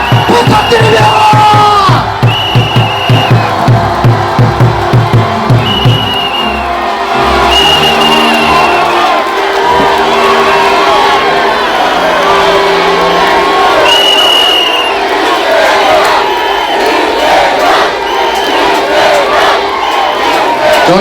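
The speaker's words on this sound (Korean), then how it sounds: "뜨거운 박수와 함성을" Large outdoor crowd at a political protest rally in Bupyeong Square, Incheon, cheering, shouting and applauding loudly and continuously, with rhythmic clapping early on and a sustained roar of voices throughout.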